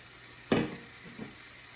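Chopped cherry tomatoes cook down in a pan with a soft steady sizzle, broken by one sharp spattering burst and a fainter second pop as they shift in the hot oil.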